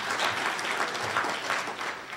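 An audience at a Rotary luncheon claps steadily and fairly loudly, a dense, even patter of many hands sustained throughout with no voices over it.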